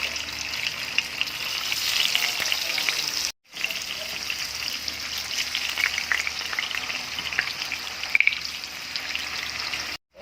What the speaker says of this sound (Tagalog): Ipa-fried na natin ang ating tokwa